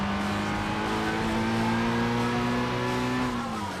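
A race car in a racing video game on the Nurburgring drones along with a sustained engine tone that slowly rises and falls, tyre noise blended underneath, loud and continuous.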